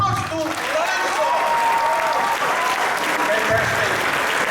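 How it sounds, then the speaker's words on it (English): An event audience claps and cheers for Lorenzo, with voices calling out over the applause and some tonal sound woven through the crowd noise. "Give one more round of applause to Lorenzo."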